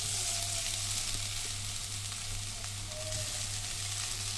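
Chopped chena (elephant yam) stem pieces dropped into hot oil tempering for an Onam thoran, giving a steady, dense sizzle close up that holds evenly throughout with no voices.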